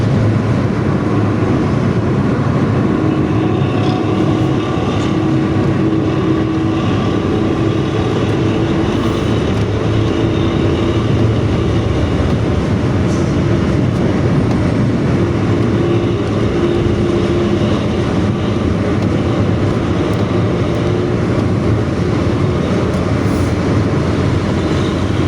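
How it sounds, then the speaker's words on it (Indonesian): A Luragung intercity bus with a growling aftermarket exhaust rumbles steadily and loudly for the whole stretch, a dense continuous engine roar with no talking over it. "Bus Puragung yang masih pakai knalpot ngorok."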